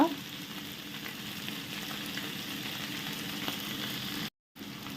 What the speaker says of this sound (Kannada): ಚೆನ್ನಾಗಿ ಸ್ವಲ್ಪ ಹೊತ್ತು ಫ್ರೈ ಮಾಡುವ ಇದು ಕೂಡ ಸ್ವಲ್ಪ ಬಾಡಲಿ